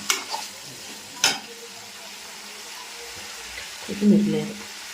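Curry leaves frying in a pan of chicken fry, producing a moderate sizzle with a couple of sharp spatters early on and stirring or scraping toward the end, heard close.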